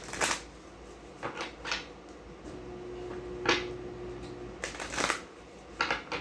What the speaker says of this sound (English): One more shuffle, and then we'll cut them.